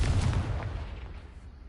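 A booming Confringo blasting-spell explosion from a magic video game, a loud burst with a deep rumbling tail that fades over about a second and a half.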